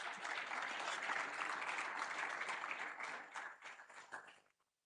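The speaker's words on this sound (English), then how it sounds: "Let's give another round of applause to the CEO for his insightful words" An audience at a youth forum closing ceremony in Kigali claps after a speech, a dense, fairly distant burst of applause that thins out and stops within a few seconds.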